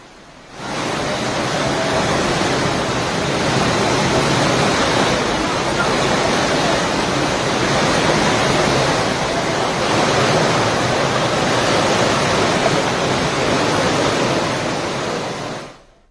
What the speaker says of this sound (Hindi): मंदिर के बगल से पहाड़ियों से पानी की तेज धारा नीचे आती हुई नजर आई।